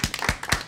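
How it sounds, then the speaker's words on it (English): A short burst of audience clapping, a few sharp, evenly spaced claps close together without voices. "Is that the first time they've clapped this whole time?"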